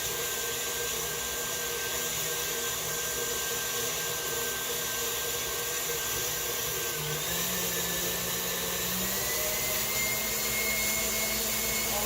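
An electric mixer whirs steadily as it blends cream cheese with sugar, egg and vanilla, a constant motor drone with a slight shift in pitch partway through and no voices.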